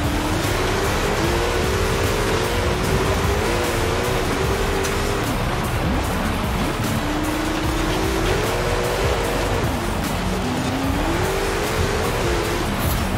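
Car engine in a driving video game, tuned with a modified transmission and larger final drive, revving steadily as it is driven off-road with slight tire squeal, loud and continuous throughout with no talk.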